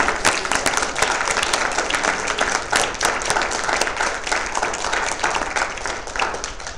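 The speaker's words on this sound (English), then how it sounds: "Give yourself a round of applause." Workshop participants burst into sustained, dense applause that stays loud and steady for several seconds, with a few sharper individual claps standing out and little talk.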